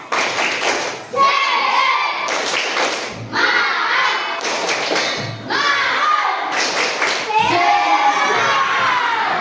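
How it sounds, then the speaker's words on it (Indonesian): Schoolchildren in an elementary classroom perform a rhythmic spirit clap, loud bursts of clapping and thumping in repeated phrases with shouted chanting between them. "Kita tepuk semangat lagi. Tepuk semangat."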